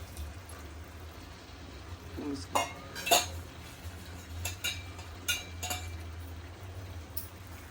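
A spoon stirs chicken lapeta gravy in a pan after hot water is added, giving scattered metallic clinks and scrapes against the pan over a low background hum.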